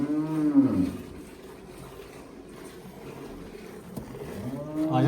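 Large crossbred cow gives a low, close mooing call at the start and another begins near the end, with quiet farmyard background between and no talking.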